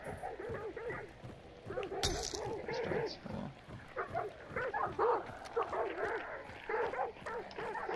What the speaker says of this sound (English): Watch out for those dogs.